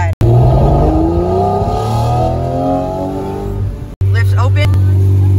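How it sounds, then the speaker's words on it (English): A Lamborghini Murcielago engine revs hard up through a gear from inside the cabin, then cuts abruptly, followed by a sharp metallic clack of the gated manual shifter before the engine picks up again. "The gated shifting noise is unreal."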